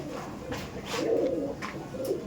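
Kaldom pigeons coo in soft, throaty rolling calls, a few birds close by repeating in overlapping bursts.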